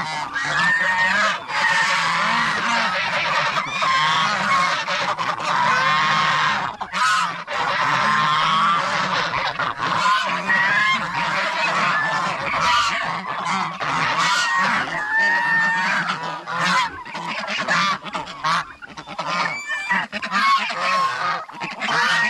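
Farm geese and ducks honk and quack continuously in a dense, loud flock chorus, many overlapping calls with no break throughout.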